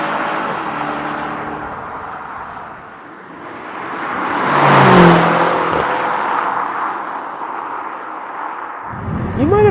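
Porsche Panamera GTS V8 engine while driving, a steady engine drone that swells toward the middle as it speeds up, then eases off, with no talking.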